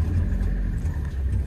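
A car engine labours on a snowy hill road in Ganga Choti, Azad Kashmir, a heavy low rumble that surges and sags unevenly as the vehicle fails to climb.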